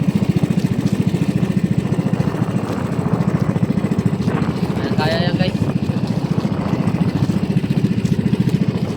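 A large motor runs steadily and loudly close by, its low, even drone unbroken from start to finish with a brief higher chirp partway through.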